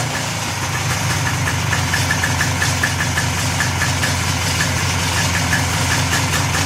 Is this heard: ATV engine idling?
yes